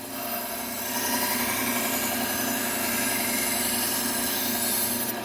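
A Henckels kitchen knife edge being refined on a 600-grit Trizact A30 abrasive belt, making a continuous, close, even grinding hiss with a steady motor hum underneath, uninterrupted and without talk.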